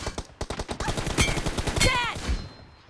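Rapid automatic gunfire in a mobile shooter game played on a 9th-generation iPad at 90 FPS, a fast even string of sharp shots in bursts with short gaps, close and loud, trailing off at the end.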